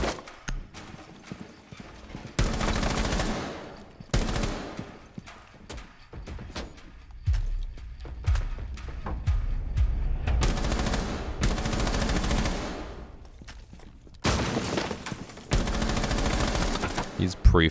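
Video game gunfire as a player pre-fires through walls, dense automatic bursts rattling in long sustained stretches, loud and close, separated by short pauses.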